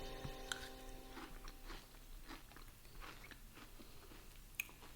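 Crunchy homemade Dubai chocolate, dark chocolate with a crisp filling from the freezer, is bitten and chewed close up, with soft repeated crunches and one sharper snap, quiet and without talk.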